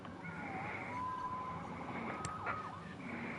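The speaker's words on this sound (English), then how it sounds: "Saved by a siren." Siren wailing in Marvel's Spider-Man, a wavering tone sweeping up and down over a steady city hum, moderately distant with no talk.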